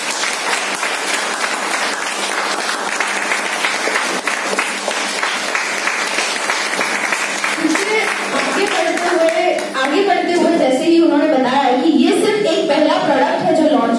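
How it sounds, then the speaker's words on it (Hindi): An audience at a kombucha presentation claps loudly and continuously, the applause then thinning as a voice begins speaking over the last few seconds. "सबसे पहले उनके लिए बहुत बहुत तालियां"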